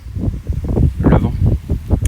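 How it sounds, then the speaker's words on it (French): Strong southwest wind ahead of a cold front in Ille-et-Vilaine buffets the microphone in rough, rumbling gusts that surge and fade every fraction of a second. "le vent sud-ouest, il a pété un câble de mon côté"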